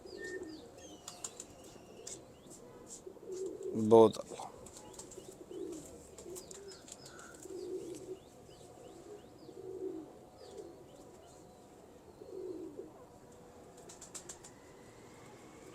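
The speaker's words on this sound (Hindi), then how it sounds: "ये इंटरनेशनल कबूतर है जी" Pigeons coo softly in a loft, low murmuring calls repeating through the clip alongside faint chirps, with a sudden burst of wing flapping early on and someone speaking briefly.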